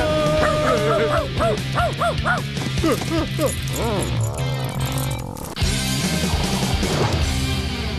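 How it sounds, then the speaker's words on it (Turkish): A dog barks repeatedly in quick yips and whimpering barks, close by, with people talking and a thud partway through. "Çıkarın şu köpeği buradan."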